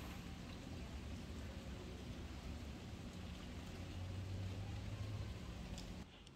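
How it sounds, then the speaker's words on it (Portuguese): Light rain falls outside with a steady, soft hiss that continues evenly throughout, with no one speaking. "Chuvinha aqui fora."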